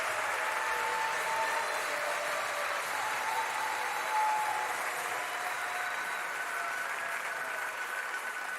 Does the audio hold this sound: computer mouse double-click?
no